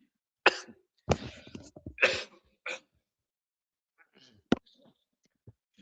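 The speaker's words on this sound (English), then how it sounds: "a bit cough." A man coughs in a few short, sharp bursts at close range, followed by a quieter throat sound and scattered small noises in near silence.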